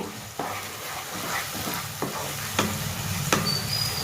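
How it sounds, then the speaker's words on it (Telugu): Onions frying in oil in a pan for a spicy crab masala curry give a steady, close sizzle. Occasional scraping stirs of a utensil cut through it. "ఉల్లిపాయలు అనేది ఎంత బాగా ఫ్రై అవుతే టేస్ట్ అనేది అంత బాగా వస్తుంది అనమాట."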